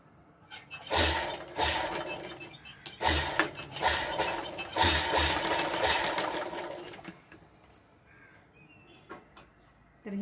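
A domestic sewing machine stitches a blouse sleeve design in short bursts of fast whirring, stopping and starting several times, moderately close, with faint speech and outdoor birds in the background.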